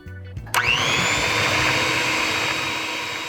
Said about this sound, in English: then we can beat that with our hand mixer